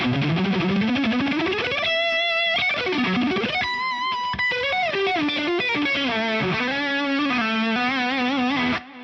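Electric guitar plays a lead line with a distorted tone, the EQ switched on with a mid boost, sounding even and sustained. Sliding, bending notes play continuously and loud, with no voices.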